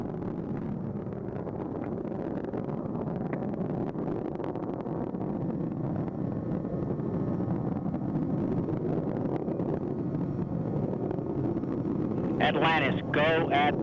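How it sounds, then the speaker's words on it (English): Space shuttle Atlantis main engines roar continuously during launch, a steady loud broadband rumble heard from inside the cockpit, with a brief radio voice cutting in near the end. "Engines now revving up, standing by for the throttle up call."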